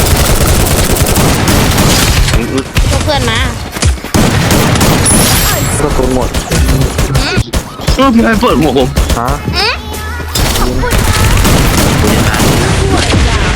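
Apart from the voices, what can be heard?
gunfire in a video game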